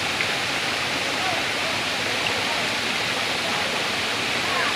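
Steady rushing roar of Batlag waterfall in Tanay, Rizal, a broad continuous wash of falling water filling the whole stretch at even loudness with no pauses.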